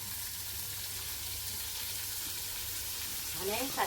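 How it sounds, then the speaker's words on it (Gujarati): Sesame seeds with ginger-chili paste sizzle and pop in hot oil, a steady close frying hiss that carries on throughout, with a little stirring clatter near the end. "આદુ મરચાની પેસ્ટ નંખાઈ ગઈ છે અને તલ જો કેટલા ઉપર સુધી ઉડે છે. ઘણા ઉપર તલ ઉડે છે"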